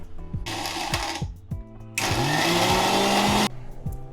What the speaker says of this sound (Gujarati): આપણે હવે મિક્સરમાં એની ચટણી બનાવી દઈશું